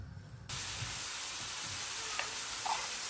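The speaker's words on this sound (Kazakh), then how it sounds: "Осы жуамен сәбізді қуырамыз." Carrots and onion fry in oil for a sauce, a faint, even hiss of sizzling that starts abruptly and continues steadily with no voices.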